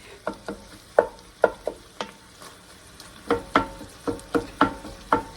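Sausage and garlic sizzle in a pan while a utensil stirs and scrapes in a steady rhythm of quick, fairly faint strokes, with no talking.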